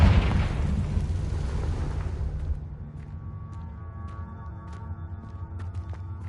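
A Confringo blasting spell in the game Hogwarts Legacy erupts in a loud, deep explosion that rumbles and slowly fades into a low hum with faint clicks.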